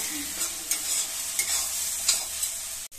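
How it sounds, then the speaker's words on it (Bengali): Potatoes for hariyali aloo dum fry in a pan as a spatula stirs and scrapes them, with a close sizzle and several sharp scraping strokes and no voices. "এবার এটাকে আমি নাড়াতে থাকবো, যাতে এটা বেশি লেগে টেগে না যায়।"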